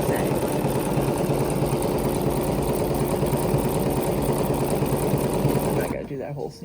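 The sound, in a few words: Bernina sewing machine stitching a miniature zigzag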